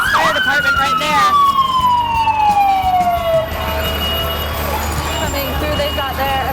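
A fire department vehicle's siren wails loudly at a July 4th parade in Ketchikan, one long sweeping tone falling in pitch, then fading into engine rumble and crowd noise with people talking.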